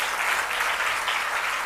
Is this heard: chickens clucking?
no